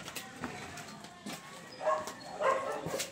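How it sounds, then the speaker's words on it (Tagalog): A large dog barks in a few short, scattered bursts at moderate distance, with brief pauses between them. "Ang laki ng aso na to ah"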